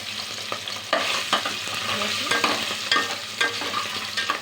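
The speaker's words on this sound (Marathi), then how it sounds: "तेल छान गरम झालेलं आहे त्याच्यामध्ये ही जी चरबी आहे ती टाकून घेऊया" Mutton fat dropped into hot oil for a spicy village-style mutton curry, sizzling and frying steadily up close while a spoon scrapes and stirs the pan every second or so.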